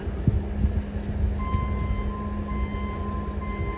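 Busy marina ambience as a boat is prepared for launch, with steady low rumbling machinery, irregular thumps and a sustained high tone like a beeping signal, fairly loud and close.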